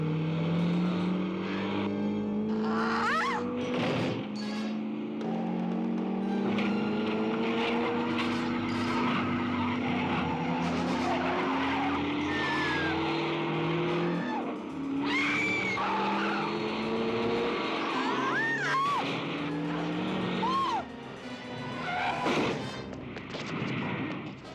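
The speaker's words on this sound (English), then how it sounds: "She hit that car." A car skids with long screeching tire squeals, then crashes into another car with heavy thuds and impacts, loud and close, with engines roaring and shouting voices around the collision.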